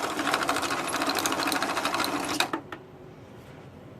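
High-torque electric motors drive a 1/6 scale Dragon Sherman tank transmission in a stress test, giving a steady, fast mechanical whir with a rapid rattling pulse that runs loud and close, then cuts off abruptly near the end, leaving quiet room tone.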